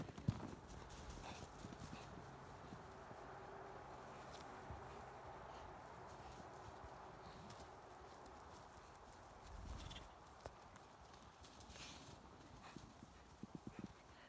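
A pony's hooves clip-clop on a floor in quiet, fairly faint, irregular steps, with a few sharper knocks near the end and no talking.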